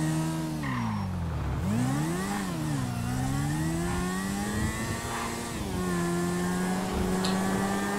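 Motorbike engine in GTA 5 on PS5 revs and drops in pitch, then climbs and holds a steady loud drone, with a brief tyre squeal partway through, no speech.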